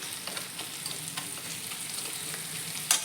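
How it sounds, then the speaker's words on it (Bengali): Chopped onion, ginger and garlic fry in a pan with a continuous close sizzle, broken by soft stirring scrapes and a sharp clink near the end. "এখানে আমার পেঁয়াজটা দিয়ে আদা রসুন দিয়ে ভাজা হয়ে গেল, এটা কষা হয়ে গেল প্রায়"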